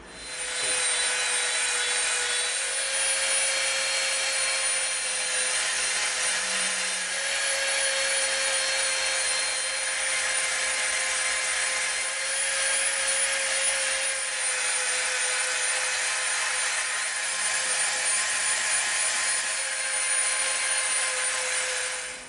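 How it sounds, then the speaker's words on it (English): A Dremel rotary tool whines steadily and continuously as it rounds the edges of EVA foam, a loud, close, high-pitched grinding drone that runs without pause the whole time. "Dremel ready. We're going to start rounding all the edges of this off."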